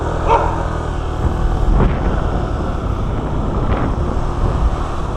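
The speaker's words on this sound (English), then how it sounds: "I wasn't sure if that dog was chained or not" A dog barks a few times somewhere beside a bicycle path, the sharp barks standing out against steady wind buffeting the microphone, with no talking.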